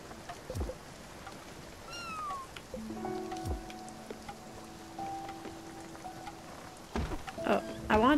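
Cat meowing in the video game Spiritfarer, a few short rising and falling mews scattered over a soft pattering background with game tones, fairly quiet.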